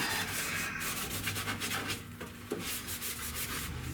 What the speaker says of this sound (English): And you just want to come in here and you want to scuff this out.